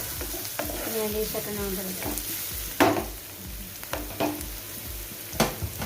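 Maggi masala fries in a pan, sizzling steadily while a spoon stirs and scrapes with occasional sharp clicks against the pan, as someone talks over it.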